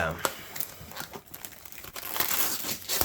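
Plastic wrapping on a Heroes of Might and Magic III board game box crinkles and tears in quick, uneven bursts at close range, fairly quiet overall, with a person talking over it.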